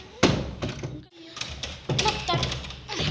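A stuck door is forced and rattled in a dark building with a repeated thump, a creak and metallic knocks as it is struggled with, loud and close, with a brief pause partway through.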